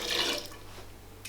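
Diluted rennet, eight drops mixed into 60 milliliters of water, is poured into warm milk for cheesemaking, giving a short close splash and trickle that fades after a brief burst.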